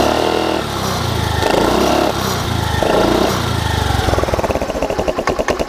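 A motorcycle with the air suction valve's fresh-air pipe removed is revved up and down close by, its engine roaring in swells before easing back to a throbbing idle.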